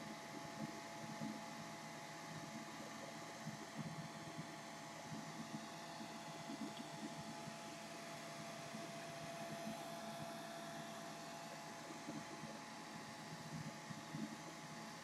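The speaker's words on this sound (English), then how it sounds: "I'm using my blow dryer" A handheld blow dryer runs steadily, drying paint on a canvas, a continuous broadband whoosh with a faint hum that stays even and fairly close throughout, with no talking.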